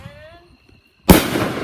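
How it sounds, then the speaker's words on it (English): A firework cannon at a fireworks display fires with one sudden loud boom after a quiet moment, followed by a crackling, sizzling rush; voices are faintly heard before the blast. "And cannons of the third round launch."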